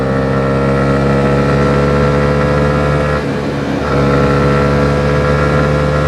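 A 2021 Honda CB125R motorcycle engine pulls hard in a steady, loud, buzzing drone, dipping briefly midway and then climbing back, with no voices.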